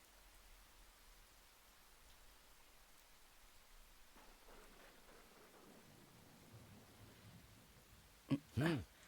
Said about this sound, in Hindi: बारिश में भीगने की आदत नहीं गई अभी?